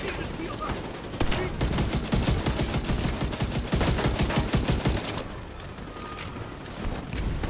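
Rapid gunfire in the shooter game The Division 2 during a sinkhole control point fight, a dense run of sharp repeated shots through the middle seconds, moderately loud, with quieter battle noise around it.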